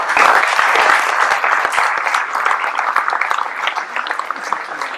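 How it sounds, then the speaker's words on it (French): Loud, lively applause from an audience honouring a football club volunteer at a civic sports awards evening, close and dense at first, then gradually thinning. "Je vous demande d'applaudir Monsieur Lucien Pelard"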